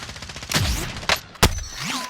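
Gunfire in the video game Warzone: a few sharp, loud shots in quick succession over a noisy battlefield background, each with a short echoing tail.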